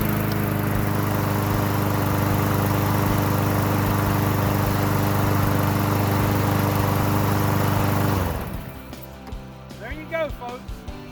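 A Honda GCV 160cc engine on a Craftsman push mower runs loud and steady at close range, then cuts out abruptly, leaving only faint scattered knocks and handling sounds.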